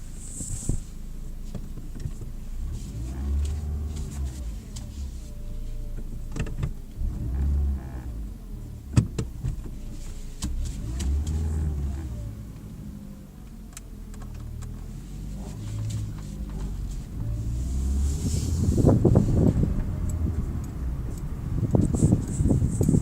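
A car drives along a local road in Spain. A steady, near engine rumble with road noise shifts through gear changes and swells louder toward the end, with no talking.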